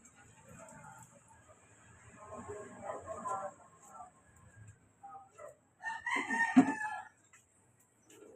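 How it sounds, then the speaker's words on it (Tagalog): Chickens on a city yard in Tondo, Manila: hens and chicks cluck softly, then a rooster crows loudly near the end, with a person speaking over the flock. "hindi lang si Chuning ang pakainin mo, pati yung chicks niya"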